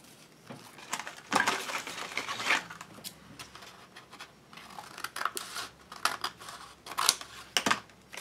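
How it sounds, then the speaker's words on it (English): Scissors trimming the end of a paper page for an altered book, heard as close, irregular snipping and scratchy paper rustles in short bursts without talk. "I'm just trimming off the end, make it fit a little bit better."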